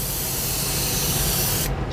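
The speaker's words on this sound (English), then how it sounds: "Now the technique I want to do is I want to spray and go across the part and stop." An airbrush sprays gold paint across a part during a restoration job, giving a loud, close, continuous hiss that cuts off abruptly near the end.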